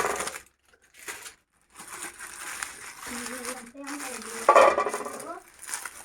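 Metal pots and serving spoons clink and scrape while biryani is dished out from a cooking pot, a scattered clatter of utensils at close range with someone speaking over it.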